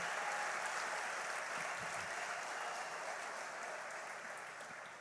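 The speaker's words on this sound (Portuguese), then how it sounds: "Aplauda forte ao Senhor." Congregation at a church service claps loudly and steadily, a continuous wash of many hands heard from a distance that slowly fades toward the end.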